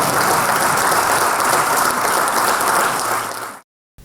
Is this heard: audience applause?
yes